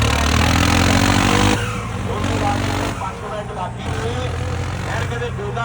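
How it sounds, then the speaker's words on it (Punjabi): A tractor engine runs loudly at a trolley-pulling competition in a Punjab village, with a steady, throbbing diesel rumble that eases slightly after a moment, with faint voices in the background. "ਲੱਗਾ ਆਪਣਾ ਟਰੈਕਟਰ ਚੱਲਣ"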